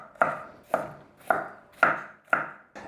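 A knife chops through cauliflower on a cutting board in five sharp, evenly spaced strikes, each a crisp thunk with a short crunchy tail, close and clear with no talking.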